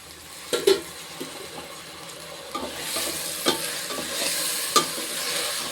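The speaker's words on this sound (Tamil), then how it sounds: "இப்போ வந்து நம்ம பட்டாணி கழுவி வச்சுருக்கோம், பட்டாணியை போட்டுக்கிறோம்." Washed green peas tipped into a pan of softened onions and spices, a steady, close sizzle with a few sharp scrapes and taps of a spoon stirring them in.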